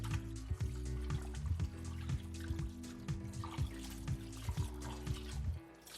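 Raw herring is swished and turned by hand in a bowl of water before frying, giving continuous close splashing and trickling with small drips over a low background rumble.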